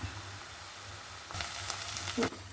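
Chopped onion with a pinch of salt sautéing in a pan, a continuous close hiss of frying that swells briefly as it is stirred, with no talking.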